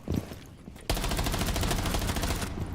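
Rapid automatic gunfire in Rainbow Six Siege: one sudden, loud, evenly rattling burst of many quick shots held for nearly two seconds, following a few scattered earlier pops.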